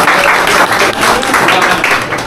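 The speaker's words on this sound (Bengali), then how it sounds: "তো ওদের জন্য একটা হাততালি" Loud, close applause from a small gathering at a farewell event for friends, with continuous overlapping clapping throughout and a few voices mixed faintly underneath.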